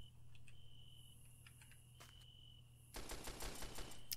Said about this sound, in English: Shots are very close now.